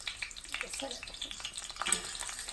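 Onion frying in oil at the start of Mexican refried beans, giving a steady, fairly faint sizzle with small irregular pops and crackles running through the whole stretch, with no talk over it.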